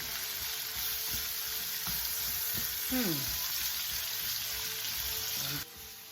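Pansit bihon rice noodles fry in a pan with a steady, faint hiss, marked by a few soft clinks and scraping sounds while cooking at home.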